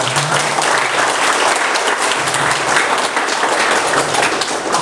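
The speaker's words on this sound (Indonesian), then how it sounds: "Pada hari ini saya kira kita tepuk tangan dulu." A seminar audience applauds to welcome a senior PDI Perjuangan politician as guest speaker at a public lecture, with dense, steady clapping at close range throughout.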